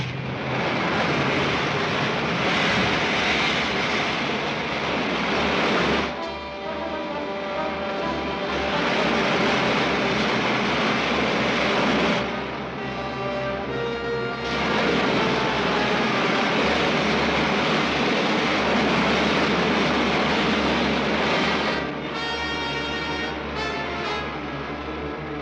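Spaceship main jets fire in a vintage sci-fi film, a loud, continuous roaring rush that surges in long waves with brief dips between them, heard alone without voices.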